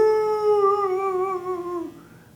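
A human voice imitates dogs howling in one long, sustained, wavering cry that slowly drops in pitch and fades toward the end, heard close and alone.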